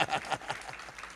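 A church congregation breaks into brief, lively applause during a worship service, a dense patter of many hands filling a short burst.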